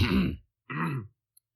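Two short, throaty coughs close by, separated by a brief pause, rough and gravelly, followed by quiet.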